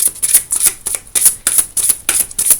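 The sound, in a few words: tarot cards being shuffled for a reading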